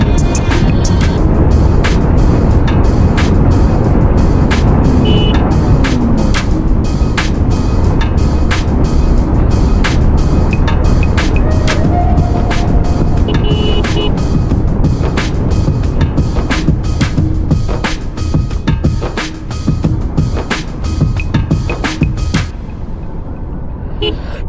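A motorbike being ridden along a road on a cold day, its steady engine drone mixed with heavy wind rush that stays loud and continuous before easing off at the very end.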